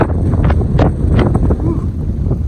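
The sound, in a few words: wind in a mountain gap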